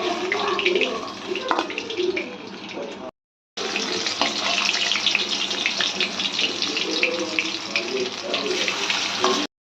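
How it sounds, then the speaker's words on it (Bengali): Fish fry in oil with a continuous, dense crackling sizzle close by, broken by a brief silent gap before the frying resumes just as loud. "বাকি যে মাছগুলো আছে আমরা একইভাবে ভেজে নিচ্ছি"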